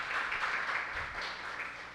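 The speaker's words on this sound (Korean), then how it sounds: "우리 박수 한번 보내주시면 좋을 것 같습니다" A church congregation at a Sunday afternoon worship service applauds the broadcast staff in a brief, steady burst of clapping from a large group that tapers slightly toward the end.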